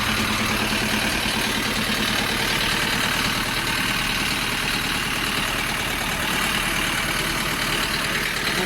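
A Bulat 504 tractor engine idles steadily and loudly, a constant low rumble with a faint knocking texture and no pauses.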